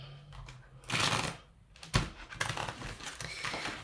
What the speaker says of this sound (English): this deck doesn't like to be shuffled this way at all.